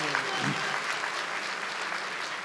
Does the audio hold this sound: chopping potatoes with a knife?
no